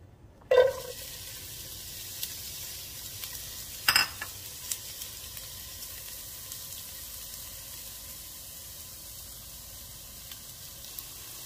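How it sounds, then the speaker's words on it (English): Onion frying in ghee gives a faint, steady sizzle, with a sharp clatter as the onion drops in near the start and a few utensil knocks after, then a low continuous crackle. "the ghee is ready. I am going to add onion"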